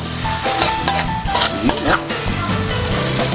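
Spicy pancit canton ingredients stirred in a hot pan, with a loud continuous sizzle and repeated scraping and clattering stirs close by.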